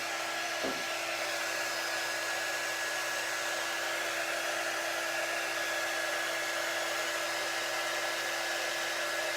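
A hair dryer dries a painted background for a Christmas craft kit before wax is applied. It blows in a loud, steady, unbroken whoosh throughout, close by.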